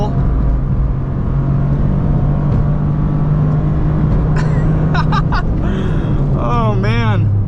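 A 2023 Toyota GR Corolla Morizo on a race track at full throttle, engine droning loud and steady from inside the cabin while someone talks over it, with a rising tonal whine near the end.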